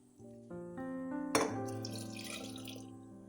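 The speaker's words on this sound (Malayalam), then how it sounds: "ആ വെള്ളം നമുക്ക് കുപ്പിയിലോട്ട് ഒഴിച്ചു കൊടുക്കാം" Boiled water is poured from a mixer-grinder jar into a bottle while making homemade cashew apple wine. It starts as a steady, close trickle with a ringing tone, then a louder splashing gush follows and keeps on, with no talking.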